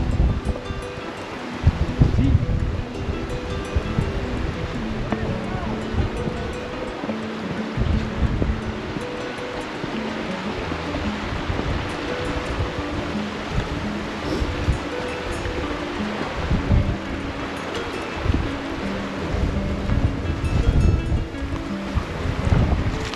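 Steady, loud rushing water of the Cascade d'Ars waterfall in Ariège roars throughout, with gusts of wind buffeting the microphone; no talking.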